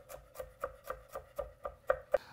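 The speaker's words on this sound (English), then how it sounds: "I want to chop the shallot really thin, and I want to chop the garlic the same like the shallot" A knife chops shallot and garlic on a board in a steady run of about nine crisp, evenly spaced taps, close and fairly quiet, with no talking.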